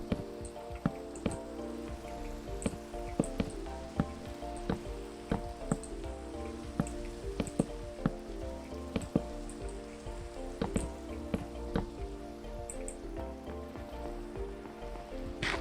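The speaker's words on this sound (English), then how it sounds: "Man, stinking rain. raining on our parade." Rain falls in the Minecraft video game, a steady soft patter of scattered drips and taps over a constant background wash, with no talk.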